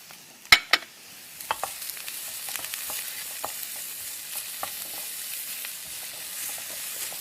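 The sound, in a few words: stir-frying onion and carrot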